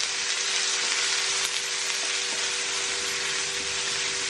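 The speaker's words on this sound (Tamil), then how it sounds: "நல்லா ஒரு பொன்னிறமாக வர்ற அளவுக்கு வெங்காயத்தை வதக்கி எடுத்துக்கணும்" Chopped shallots sautéing in a pan for coriander fish curry, a steady, close hiss of sizzling oil that holds level throughout, with a faint stirring touch now and then and no speech.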